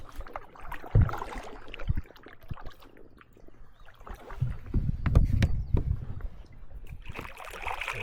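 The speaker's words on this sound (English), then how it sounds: "then it's a paddle into the next lake" A canoe paddled on a lake in the Adirondacks, with irregular water splashes and paddle strokes that swell into a louder, churning stretch midway before easing off, nearby and without speech.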